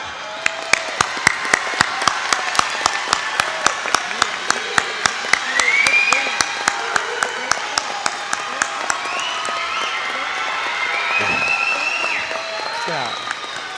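Graduation ceremony audience applauding at a high school commencement, sustained crowd clapping with scattered cheers and voices, a sharp regular tapping beat running through it.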